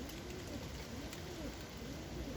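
Pigeons cooing softly around a dovecote outdoors, a repeated low rolling coo that recurs several times over a constant hiss of wind or background noise.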